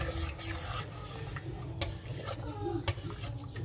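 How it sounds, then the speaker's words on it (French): Harira soup being stirred in a cooking pot, a steady, soft bubbling and scraping texture with a few sharp clinks of the utensil against the pot, fairly quiet and continuous. "Il y a juste à baisser et la mélanger, la laisser cuire"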